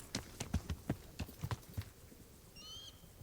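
Horse hooves in Kingdom Come: Deliverance, about nine quick clip-clop footfalls in an uneven gallop rhythm, fairly close but quiet, then they stop and a faint bird call follows.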